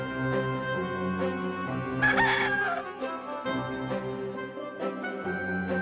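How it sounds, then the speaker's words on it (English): A rooster in the PS1 game Discworld 2 crows loudly in a long, strained cock-a-doodle-doo, with harmonic, slightly synthetic-sounding calls and a brief clucking burst in the middle. "A rooster."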